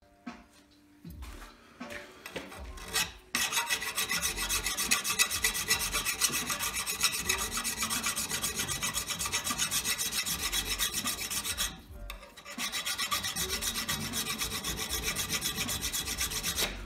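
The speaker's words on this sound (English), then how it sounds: "I'm going to clamp this up, and I'm going to file these surfaces really flat" A metal file rasps flat surfaces of an intake part from a 1981 Honda ATC 70, in long continuous close strokes that pause briefly near the start and again around the twelve-second mark.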